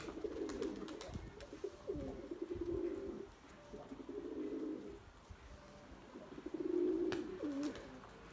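A pet pigeon coos in several repeated, rolling phrases, fairly faint and slightly distant, over quiet background noise.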